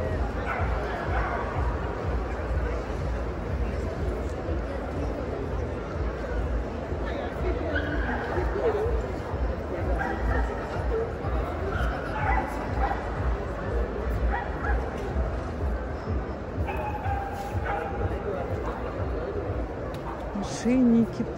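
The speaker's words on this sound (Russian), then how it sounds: "Смотри, какие собаки, Паш, посмотри." Dogs bark, yip and whimper repeatedly across a busy indoor dog show, with the calls scattered at varying distances through a constant crowd murmur while people chat nearby.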